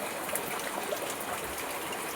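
Rainwater gushes and leaks from a light switch in a village home during heavy rain, a steady faint rushing trickle that runs continuously without pause.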